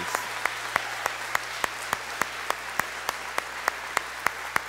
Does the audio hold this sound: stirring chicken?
no